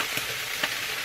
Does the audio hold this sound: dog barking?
no